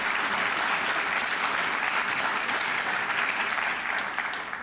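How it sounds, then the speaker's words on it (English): Guests at a benefit reception give a sustained round of applause, dense and even clapping from a full room that tapers slightly at the very end. "Please accept a round of applause from all of us."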